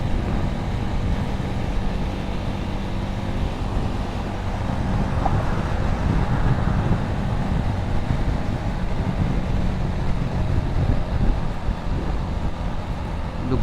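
Riding a motorbike along an elevated expressway brings a constant roar of wind buffeting and traffic noise, steady and loud throughout with no pauses.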